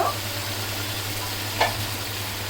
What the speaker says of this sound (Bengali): কষিয়ে নেবেন নেড়ে নেড়ে চেড়ে দিবেন তাহলে মশলাটা সুন্দর মতো মাটির সাথে মিশে যাবে